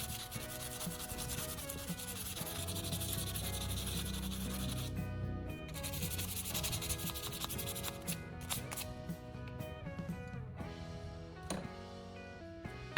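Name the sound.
sanding pruning shears blade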